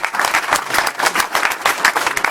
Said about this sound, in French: je dois applaudir la France